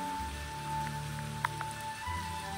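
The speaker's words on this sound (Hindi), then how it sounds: "ये देखो भाई मस्त बारिश चल रही है" Rain falling during a downpour, a faint, steady hiss with a few sharper droplet ticks near the middle, with no one speaking.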